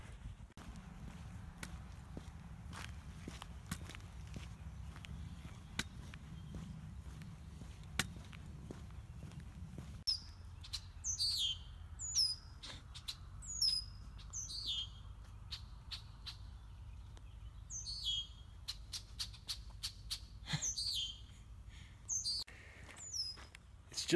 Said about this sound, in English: Those dang red-winged blackbirds like almost hover when they fly over you.